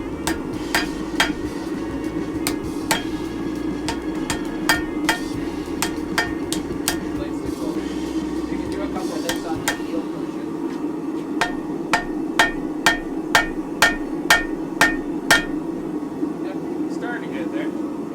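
A hammer strikes hot steel repeatedly while forging the heel of an offset serrated knife blade, sharp ringing blows in irregular bursts over a steady hum of background machinery, with a voice talking over it.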